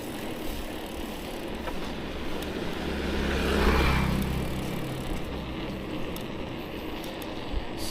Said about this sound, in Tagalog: Daming mga motor ngayon.